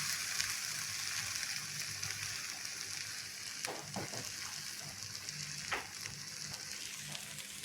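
Bajra khichdi sautéing in a pan with peas and hot water going in, a steady loud sizzle with faint stirring scrapes partway through.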